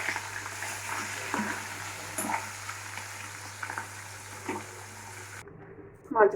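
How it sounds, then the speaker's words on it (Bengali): Fish frying lightly in hot oil gives a faint, steady sizzle with occasional soft spatters. It goes quiet near the end before a brief clink. "মাছগুলো আমরা ভেজে নিয়েছি,"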